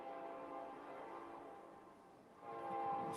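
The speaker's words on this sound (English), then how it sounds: "The train's going to go by. It's loud" A train passing near a courtroom trial recording, a steady rumbling roar with tonal horn-like bands that dips briefly and then swells louder again near the end, with no talking over it.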